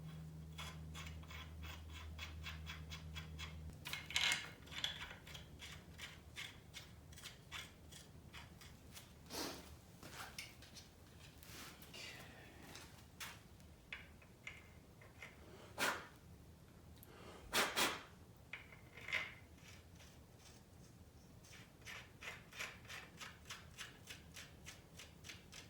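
Lug nuts being threaded and tightened onto a Honda ATC 200x during teardown, with faint ratcheting clicks and scattered metallic clanks in a quiet workshop; several sharper knocks stand out.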